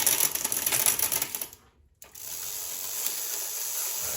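Ratcheting clicks from a Schwinn Continental bicycle's derailleur and shifter being worked during restoration, a close, busy mechanical clatter that cuts out briefly to near silence before a steady softer whir resumes.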